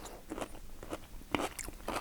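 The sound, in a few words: crunchy bite of lacto-fermented pickled cucumber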